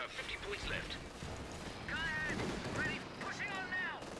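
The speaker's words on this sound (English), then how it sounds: "You are getting peppered a bit by machine guns, aren't you?" Machine gun fire and artillery rumble in the World War II strategy game Company of Heroes 2, heard as bursts of distant battlefield gunfire mixed with voices and game sounds throughout.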